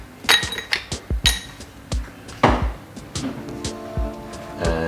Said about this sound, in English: put some ice into the glass.